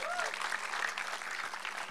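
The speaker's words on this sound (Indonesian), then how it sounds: "Tepuk tangan," A church congregation breaks into applause after a blessing, a dense, steady wash of many hands clapping at once that holds level throughout with no gaps, loud and close with some voices mixed into the crowd noise.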